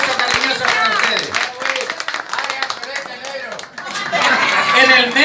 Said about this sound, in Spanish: Este aplauso cariñoso para ustedes